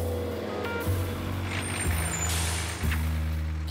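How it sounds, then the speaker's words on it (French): A garbage truck rolls closer with a heavy diesel drone, a sharp air-brake hiss around the middle, and a second hiss and shift near the end, all without voices. "Et c'est un camion poubelle."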